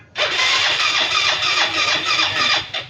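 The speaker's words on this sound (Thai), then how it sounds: "เครื่องยนต์หมุนปกตินะ แต่มันไม่ติดอ่ะ" A Yamaha Fino scooter engine cranks steadily for about three seconds, a rapid whirring churn that never catches, stopping abruptly.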